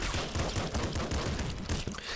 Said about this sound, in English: Throw in some explosions.